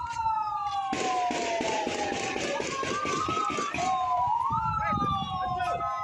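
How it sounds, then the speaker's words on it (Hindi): Ambulance sirens wailing at the scene of a bomb blast in Karachi, several overlapping sirens rising and falling close by, with street noise and voices around them. "एम्बुलेंसेज के सायरन सुनाई पड़ रहे हैं"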